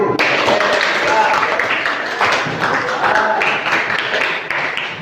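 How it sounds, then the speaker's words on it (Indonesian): Classroom of students clapping together during a counselling lesson, loud, close, rhythmic bursts of hand claps with pulses repeating over several seconds, voices mingled in. "Tepuk tangan lagi sekali"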